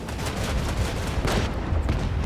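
Ship's starboard guns firing in Warhammer 40000: Rogue Trader, a dense, loud continuous barrage of booming shots with no gaps.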